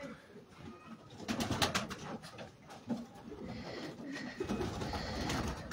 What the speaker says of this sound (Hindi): बड़ा स्लेटी कबूतर है